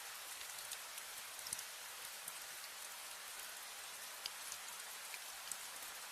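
Steady rain falls in an animated story, a continuous soft hiss of dense drops with a few sharper ticks, heard alone without voices.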